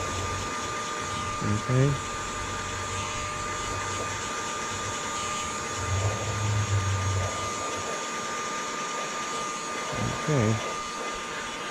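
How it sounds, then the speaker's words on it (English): A heat gun at its highest setting blasts steadily while shrinking window tint film on the back window of a VW Jetta, a loud continuous airy whine under someone briefly speaking. "this gun is going full blast, by the way. It's at the highest setting"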